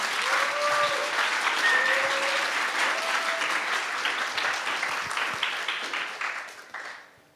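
Applause at a hackathon award ceremony, a full crowd clapping steadily and fairly close for about six seconds before fading out, with a few faint voices in the background.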